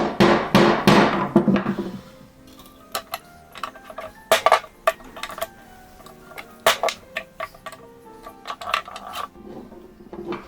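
A sword grip is beaten with a hammer until its wood cracks. A quick flurry of close, loud blows comes first, then sharp strikes spaced out at irregular intervals with short rings and knocks between them. No one speaks.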